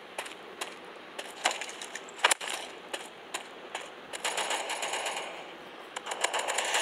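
Video game gunfire in the mobile shooter Mask Gun: quick bursts of sharp shots and clattering reports, irregular and fairly faint, with a denser run of firing toward the end.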